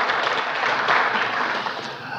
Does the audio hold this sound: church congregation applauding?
yes